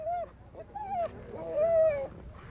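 A sled dog whimpers and whines in a series of rising, wavering high-pitched cries, close and fairly clear with a low murmur of background noise.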